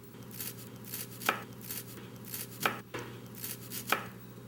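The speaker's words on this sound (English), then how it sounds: "Just cut it very small. Try to chop it as fine as you can." A knife chops raw broccoli finely on a board, three distinct sharp thuds spaced evenly with softer cutting sounds between, close and clear, no speech.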